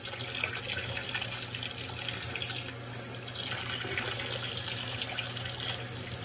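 An Electrolux Turbo Aqua Jet LTA15 direct-drive washing machine loaded with towels dispenses vinegar with water, a steady close rushing and trickling flow that runs continuously at a low level.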